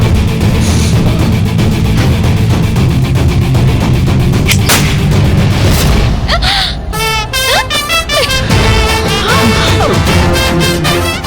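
Gunfire in a shooting contest in a Tamil TV serial scene: loud, sharp shots crack in a dense, busy mix over a constant low rumble, with voices mixed in.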